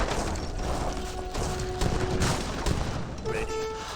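Culverin and light cannon volleys in the Age of Empires 3 strategy game crack out in dense, overlapping bursts over a constant battle din, with a brief ringing metallic tone near the end.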